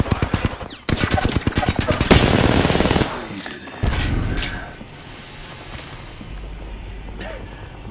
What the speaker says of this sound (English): Squad is firing at us